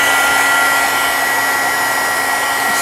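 Hair dryer blowing on damp collage paper, a loud, steady close-up whir with an even motor hum that runs unbroken throughout.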